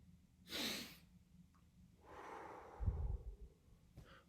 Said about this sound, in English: I'll breathe in for a bit, kind of to where I think is the limit, and then I'll do this big, quicker breath to really fill up my lungs